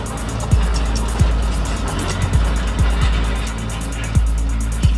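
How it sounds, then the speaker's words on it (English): A bulldozer's two-shank ripper scrapes against rocks while tearing up earth, a loud, steady heavy-engine roar with sharp grinding knocks recurring roughly every second. "Listen, can you hear it scraping against the rocks as it tears up the earth?"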